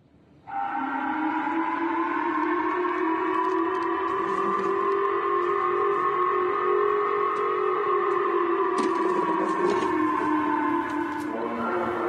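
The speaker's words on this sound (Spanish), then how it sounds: "Escuchemos la sirena que fue lanzada a todos los ciudadanos niponeses" Japanese civil defense siren sounding a warning of a North Korean ballistic missile launch, a loud sustained wail with steady harmonic tones that runs alone for about eleven seconds before shifting pitch near the end.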